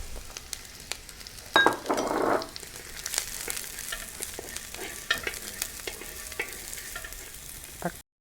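Carrots sautéing with onion, ginger and garlic in a pan, a soft steady sizzle with occasional spoon scrapes and a brief louder stir early on, close and without talking.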